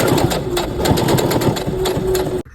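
A sewing machine stitches through four layers of knit fabric for a headband, a loud, fast, steady mechanical chatter that runs continuously and then stops abruptly.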